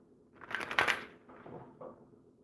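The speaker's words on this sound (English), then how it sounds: "Okay, so those are shuffled nicely." Oracle cards being shuffled by hand, a close papery riffle and slide lasting a couple of seconds in a quiet room, with no talking.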